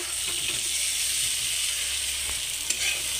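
Taro vegetable fries in a small amount of oil in a pan, producing a steady close hiss of sizzling with faint stirring scrapes and no talk.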